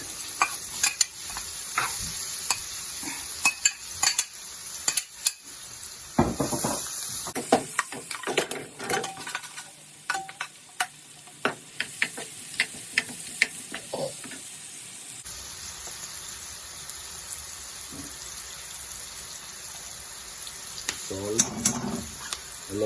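Turmeric and onion fry in a pan with a steady sizzle, broken by scraping stirs and spoon clatter against the pan, loud and close.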